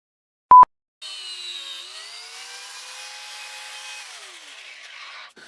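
A power tool cuts through wood while sawdust sprays, a steady high whine lasting several seconds after a short beep, then stopping abruptly.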